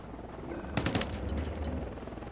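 A short burst of about three SC 4000 rifle shots in Ghost Recon Wildlands, sharp and clustered together over steady ambient game noise, without speech.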